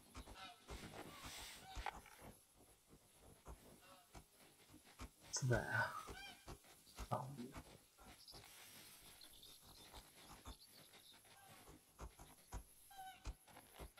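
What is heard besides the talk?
geese honking in video game The Hunter: Call of the Wild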